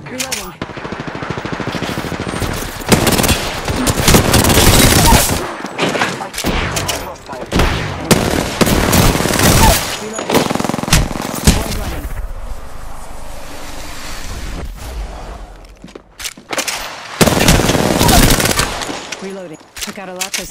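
Gunfire in Apex Legends: loud, rapid bursts of automatic fire broken by short pauses, with whooshing wind and surf-like noise between the volleys.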